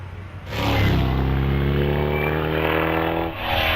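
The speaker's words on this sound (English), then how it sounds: "A fantastic ex-Formula 5000 car rounding Farmhouse Bend." A Lola T142 ex-Formula 5000 race car rounds Farmhouse Bend on the Harewood hillclimb, its engine note rising and holding a loud, steady, harmonic roar for several seconds.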